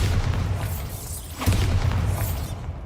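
A Bombarda blasting spell in the video game Hogwarts Legacy, heard as a heavy low boom with crackling debris, thick rumbling filling the whole moment and a second impact midway.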